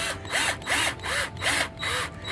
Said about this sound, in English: now all I got to do now is drill this in like so.